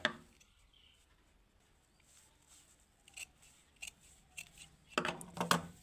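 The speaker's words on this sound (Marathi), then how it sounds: "थोडासा कट मारून आपण हा आकाराच्या आतला आपण कापड कापून घेऊया" Scissors snip through cloth while a fabric hanging mobile charger holder is being made, giving faint, quiet crisp cuts that grow into a cluster of sharper snips toward the end.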